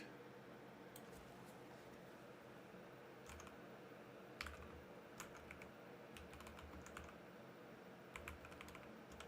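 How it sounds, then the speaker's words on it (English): Quiet, rapid clicking of keys on a computer keyboard during a gaming session, with irregular bursts of keystrokes running throughout with no voices. "Typing at an angle is a little weird."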